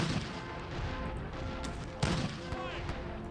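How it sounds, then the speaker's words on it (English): Booming artillery fire from the Civil War strategy game Sid Meier's Gettysburg. One sharp blast lands midway, with softer thuds around it over a busy background that includes some talking. "yep, artillery fire continues"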